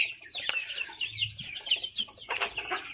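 Young Bangkok chicken chicks from a small home-scale hatch cluck and peep close by, a busy overlapping chatter of high chirps with a few sharper calls and soft rustling beneath.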